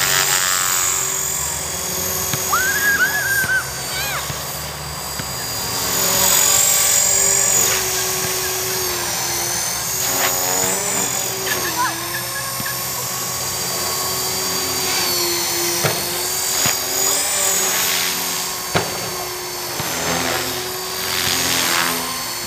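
A 450-size RC model helicopter with carbon blades and a new elevator servo flies nearby, its loud steady rotor buzz and whining motor drone continuing throughout, rising and falling slightly in pitch.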